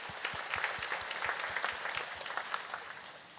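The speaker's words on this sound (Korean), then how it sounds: "다시 한번 우리 감사의 박수를 들어가겠습니다." A church congregation claps in thanks after worship singing, a moderately quiet, continuous patter of many hands with a faintly regular beat.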